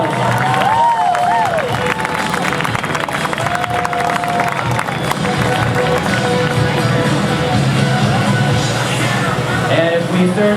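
An outdoor crowd at a show ski tournament gives a water skier a big round of applause, dense continuous clapping and cheering with a bright melodic tone running underneath.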